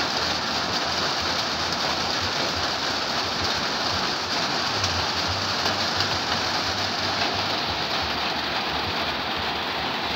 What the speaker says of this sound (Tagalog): Hinihintay namin na tumigil yung ulan.